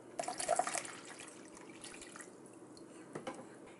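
Hydrogen peroxide poured into a container, a short splashy trickle that tapers off, followed by a few faint drips, close and quiet with no talking.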